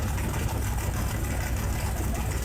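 Plum Crazy Purple Cuda in the game CMS-21 idling with a lumpy cam, a steady, loud low rumble that holds unbroken throughout with no voices over it.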